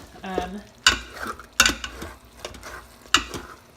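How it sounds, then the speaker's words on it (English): A spoon stirs and scrapes burrito filling that has slightly burnt onto the bottom of an Instant Pot, giving a few sharp scraping strokes with soft sizzling and quiet clatter in between. "If you stir it up really well, mine burnt to the bottom just a little bit. You just got to give it a good scrape."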